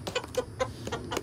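Backyard chickens cluck in a quick run of about five short, clipped calls, fairly soft and close, with nothing else heard.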